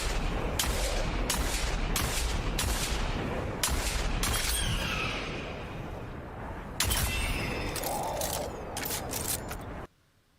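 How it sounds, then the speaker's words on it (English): Gunfire from the Destiny video game rings out in a rapid series of sharp, loud shots, followed by mechanical reloading clicks before the sound cuts off abruptly. "and that is the sound of the actual gun."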